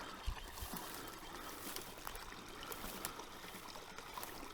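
Small waterfall on a tiny trout creek, a steady close splashing and trickling of water over rocks running throughout with a few soft knocks, no talk.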